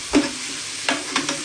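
Chinese chorizo frying in a pan, a soft steady sizzle broken by a few scraping stirs, close and alone without any talk.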